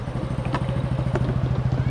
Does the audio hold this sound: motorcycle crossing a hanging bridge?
yes